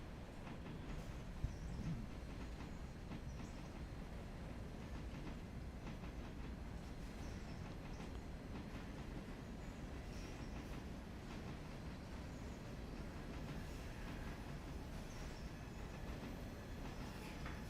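Modded locomotives running in the Railroader train simulation game, giving a steady, continuous rumble with rhythmic rail clatter and wagon noise throughout, no voices.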